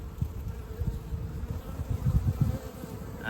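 Honey bees buzz in and out of their hive in spring, a soft, close hum of many wings rising and falling in overlapping drones with no talk.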